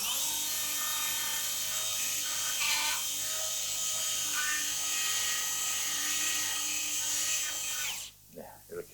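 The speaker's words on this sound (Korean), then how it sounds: "이게 본 쉐이빙 드릴인데 그런 본 쉐이빙 드릴로" A dental bone shaving drill grinds away jawbone during an implant operation, a steady high-pitched whine that runs loud and unbroken for about eight seconds before cutting off abruptly.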